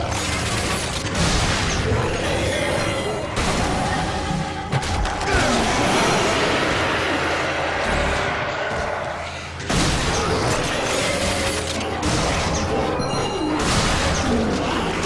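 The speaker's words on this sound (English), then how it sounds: "Let's try out our new weapon, the Skull Cushioner." Gunfire and explosions from the Skull Cushioner weapon blasting demons in Shadows of the Damned, loud repeated booms and crashes with mechanical clanks, nearly continuous, interrupted by brief lulls around five and ten seconds.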